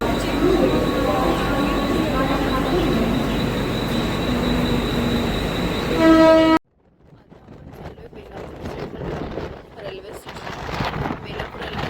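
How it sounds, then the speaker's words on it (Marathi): A Mumbai suburban local train bound for Thane runs at Kharghar station with a steady rumble and rattle of wheels and carriages, then cuts to a quieter scene of fainter, uneven rolling noise. "आता ही ठाणा ट्रेन आहे."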